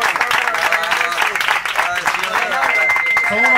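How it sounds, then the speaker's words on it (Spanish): An audience at a foam party claps in sustained applause, loud and fairly close, mixed with crowd noise and a voice talking over it. "A ustedes, un aplauso."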